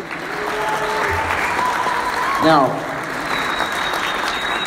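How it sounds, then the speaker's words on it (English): An audience at a flat Earth debate in Denver applauds, a dense and loud clatter of clapping lasting the whole stretch. A voice speaks over it. "Please give a round of applause for Robert Sungenis"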